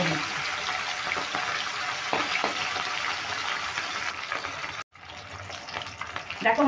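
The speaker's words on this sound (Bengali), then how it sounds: "এখন আমি 3টে করে মাছ ভেজে নিচ্ছি" Pomfret fish fry three at a time in hot mustard oil in a wok, giving a dense, steady hiss with occasional stirring. The hiss cuts out briefly, then returns.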